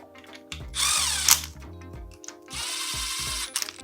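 A power tool drives in the engine bolts on a Kawasaki KFX450R, running in two loud, close bursts of whirring with short ratcheting pauses between them.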